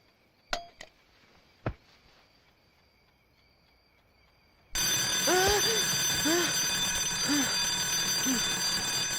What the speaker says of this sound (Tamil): என்னடா இது கரெக்டா 5 மணிக்கு அலாரம் அடிக்கும்ல